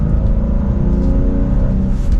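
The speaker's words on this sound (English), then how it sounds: "let's put it into M1 now, where hopefully you could hear the exhaust go away" A 2025 BMW M2 with a manual gearbox, downshifting into M1, gives a steady, close engine and exhaust drone with a low, even hum and no talking over it.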